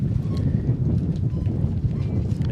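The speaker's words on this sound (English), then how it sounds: "the weather has changed a bit. It's a bit windy." Wind buffets the microphone at an outdoor tennis court during a junior championship match, a continuous low rumbling roar with uneven gusts, filling the clip without other clear sounds.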